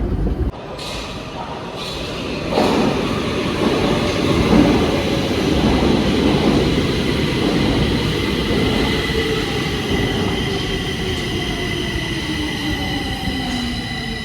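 Steady rumble of a metro train in motion, with a rising whine from the wheels and motors, continuous and loud throughout.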